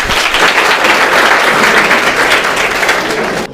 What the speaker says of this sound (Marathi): एकदा त्यांच्यासाठी जोरदार टाळ्या होऊ द्या